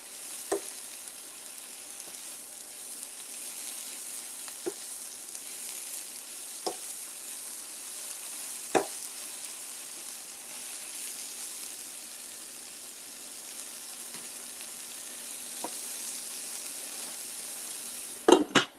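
Sunny side up eggs fry in a hot pan until crispy, giving a steady close sizzle with scattered pops and a few sharp clicks of utensils against the pan near the end, with no talking.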